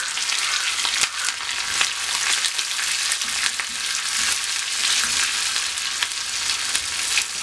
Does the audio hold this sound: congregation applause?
no